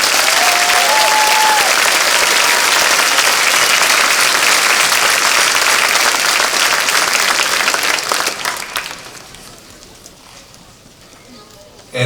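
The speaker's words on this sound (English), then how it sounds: "Please give all these young people a round of applause." A large graduation-ceremony audience applauding honors graduates: loud, continuous clapping from a big crowd, with scattered cheers, lasting about eight seconds before dying away to a quiet room and a final soft bump.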